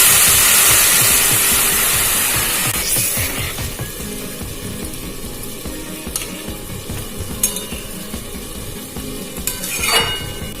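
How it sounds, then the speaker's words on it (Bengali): Marinated hilsa fish drops into hot mustard oil with a loud hiss that settles into steady frying sizzle, with pan clinks and a few spatula knocks near the end and no talking. "তেলটা গরম হয়ে গেছে। এবার মা ম্যারিনেট করা মাছগুলো দিয়ে দিচ্ছে।"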